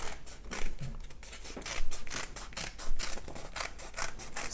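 Scissors snip a leaf shape out of paper in a steady series of close, crisp cuts with short pauses between strokes, and no voices.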